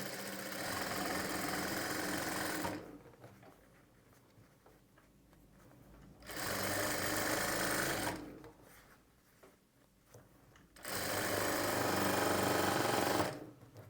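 A sewing machine stitches piping onto cloth in three loud, steady bursts of whirring motor and needle, separated by quieter pauses.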